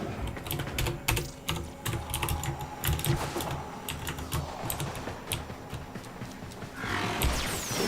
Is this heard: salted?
no